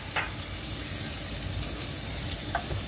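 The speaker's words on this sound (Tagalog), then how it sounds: "At susunod ay ilagay na po natin yung ating chicken." Raw chicken pieces hitting a hot pot for chicken tinola, setting off a steady loud sizzle and frying hiss that runs unbroken, with a couple of brief stirring scrapes.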